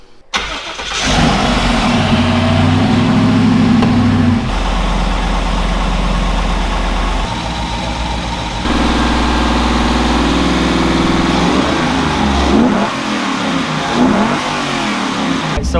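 A Toyota FJ45 Land Cruiser engine cranks and catches, then runs loud and close, shifting between rough idle and revs with several distinct changes in pitch and level before settling.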